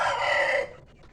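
A single village rooster crows in a simple backyard coop, a loud close drawn-out call that ends abruptly, followed by faint background sounds.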